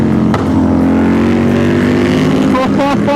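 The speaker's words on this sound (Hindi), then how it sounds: "Aprilia की साउंड सुनो तुम लोग" Aprilia 457 motorcycle with a DB killer fitted, its engine note loud and close with a steady droning exhaust that rises slightly as it revs, voices faintly underneath.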